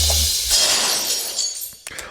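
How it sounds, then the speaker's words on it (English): Glass shattering as a sound effect in a metal song: a bright, loud burst of breaking glass that fades into a swell, with a couple of sharp crashes near the end. "So this glass breaking right here."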